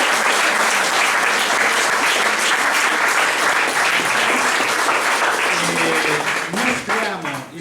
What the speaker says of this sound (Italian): le facciamo un grandissimo applauso